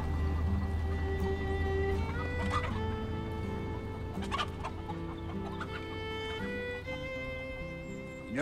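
Chickens cluck steadily with a rooster among them on a farm, a dense, close chorus of fowl calls running throughout without pause.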